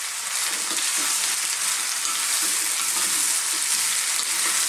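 Parboiled chunks of sweet potato fry in hot oil in a pan with ginger and garlic, giving a steady, close, bright sizzle that runs throughout with no talking.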